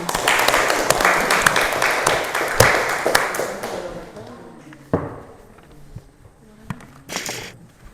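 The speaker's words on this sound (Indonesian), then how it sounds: "Berikan aplaus dulu." Students clapping together in a classroom, a dense burst of applause that fades out after a few seconds, leaving a few scattered claps and taps against quiet room noise.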